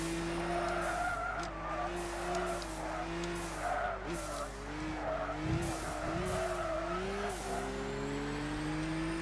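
A race car in Gran Turismo 6 speeding around a circuit, with a loud, steady engine whine rising and falling through gear changes and repeated tire squeals and skids through corners.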